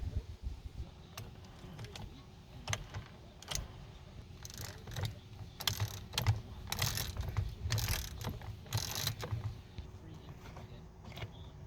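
A ratchet driving a T35 Torx bit on a Mercedes steering wheel makes rapid, close clicking bursts in irregular runs, fairly quiet.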